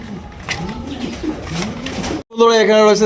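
A pair of racer pigeons coo close by in repeated soft, throaty rolling calls, with a louder, fuller coo after a brief pause near the end.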